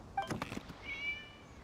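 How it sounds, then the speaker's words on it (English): A cat meows in the Genshin Impact video game, with one short rising-and-falling call standing alone against a quiet background at moderate distance. "It was just a cat."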